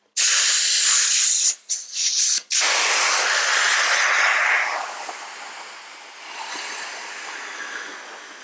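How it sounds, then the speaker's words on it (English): Air rushes out of a Naturehike ultralight sleeping pad through its open valve, a loud continuous hiss with a couple of brief interruptions that gradually weakens to a fainter flow. "With that big hole, it deflates really quickly."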